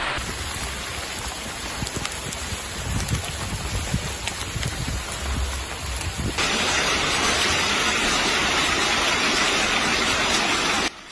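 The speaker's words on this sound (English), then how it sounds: "Il grêle. Ça fait à peine 2 minutes" Hail pours down during a hailstorm in Charleville-Mézières in the Ardennes, France, as a dense, continuous patter of ice on surfaces that turns noticeably louder and harsher partway through.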